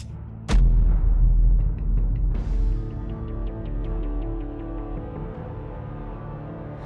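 A single sharp gunshot cracks out loud and close in the Batman: The Enemy Within game, followed by a low rumbling tail and fading ringing tones.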